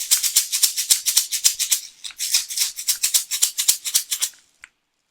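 Homemade shaker made from toilet paper tubes filled with rice, shaken in a fast steady rhythm of crisp, hissy swishes, close and loud for about four seconds before stopping abruptly.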